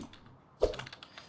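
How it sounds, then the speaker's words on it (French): A few keystrokes on a quiet, non-mechanical computer keyboard in a home setting, a brief soft burst of taps near the middle, close and faint. "Par contre mon clavier vous allez l'entendre. Donc c'est pas un clavier mécanique"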